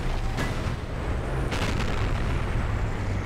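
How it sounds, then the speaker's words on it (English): A heavy boom rings out as an E5 tank's HEAT shell strikes a tank in a video game, with a second sharp blast rumbling over a loud, continuous battlefield background. "Carelessly turned my turret there to look behind me, and that costs me eating a shell off this E5"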